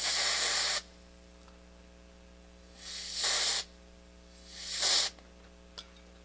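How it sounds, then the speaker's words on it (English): Three hissing bursts of cold spray aerosol aimed at a chip inside a Realistic STA-780 stereo receiver, each lasting under a second, separated by pauses over a steady electrical hum. "I'm just monkeying around with a little bit of cold spray"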